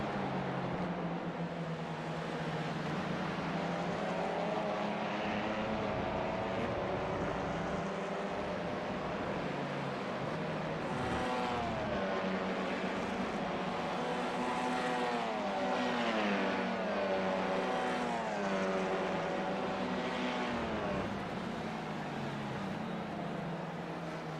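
A race car in an endurance racing video game drives with a continuous engine whine that climbs and drops through repeated gear changes and corners, steady and moderately loud throughout.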